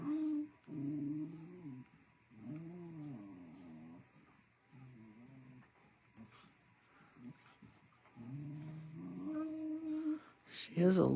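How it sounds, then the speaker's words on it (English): A small dog whimpers and growls in short, drawn-out bursts, moderately close, with quiet human talk in between. "You hurt that little dog."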